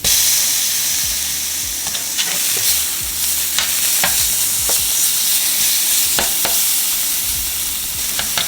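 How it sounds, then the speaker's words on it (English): Garlic stirred into a pan of melted butter, giving a loud, continuous sizzle and hiss throughout with occasional scraping stir sounds from a utensil, close up and with no talking. "so we're just gonna add the garlic"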